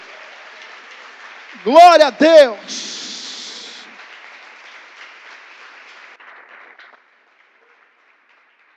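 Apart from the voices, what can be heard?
church congregation applauding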